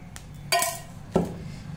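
Two sharp metallic clinks of a ladle against a heated kadhai (wok) as oil is added, spaced about half a second apart, with a faint kitchen hum in between.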